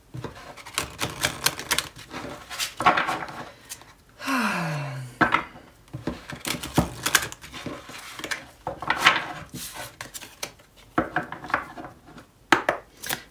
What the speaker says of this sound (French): On va les tirer tout de suite, sans plus tarder, des cartes du tarot pour voir. Donc je vais mélanger un petit peu.